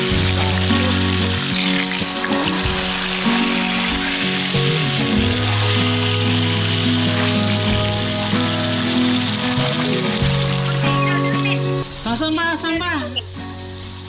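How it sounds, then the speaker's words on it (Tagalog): Loud, steady sizzling of freshly caught tilapia frying in hot oil at night throughout, with people talking over it and a low background hum. "ito naman pong ating nahuling tilapia ang ating ipiprito."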